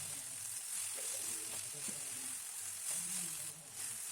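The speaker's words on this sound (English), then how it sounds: "You should fry them in high flame like this." Brinjal pieces frying in a pan over high flame, a continuous hissing sizzle with soft stirring movements, moderately quiet and steady with no voices.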